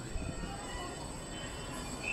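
A Metropolitano bus rolls past along a city street in Lima, Peru, giving a steady, moderately loud rumble with a high whine, heard nearby and continuous throughout.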